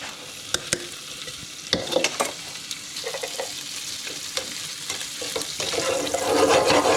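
Shrimp frying in oil in a pan with oregano, ginger, nutmeg and coriander, a steady close sizzle with sharp clatters and stirring scrapes, swelling louder and hissier toward the end.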